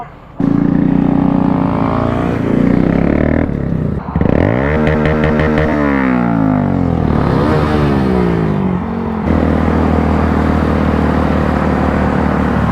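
Motorcycle engine revving loudly up close, rising and falling in pitch through several throttle blips before settling into a steady, heavy idle, with no talking over it.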